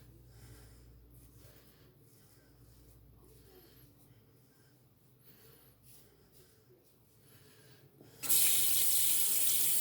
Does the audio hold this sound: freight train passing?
no